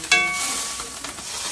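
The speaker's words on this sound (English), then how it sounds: "Get that sizzle like that." Butter sizzles in a hot skillet, with a sharp hiss that bursts in at once and then holds as a steady crackle, close and alone.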